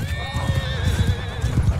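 A fast horse in a video game, with loud rapid hoofbeats drumming steadily beneath a bright, wavering neigh that carries across the whole short stretch.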